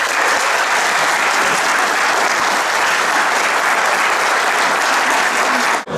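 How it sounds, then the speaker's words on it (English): Loud, dense applause from a large audience, continuous and even for several seconds before cutting off abruptly. "give Greg and Randy, if you join me, a round of applause."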